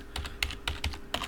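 Quiet, close keystrokes on a computer keyboard come in short, uneven bursts, with individual key taps clearly separated during text entry in a Unity scripting session.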